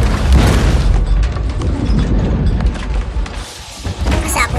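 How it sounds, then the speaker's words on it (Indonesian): A car explodes in the video game Need for Speed Payback: a loud booming explosion with heavy thuds and crackling debris, followed by a rumbling tail and scattered pops. "Mobilnya meledak."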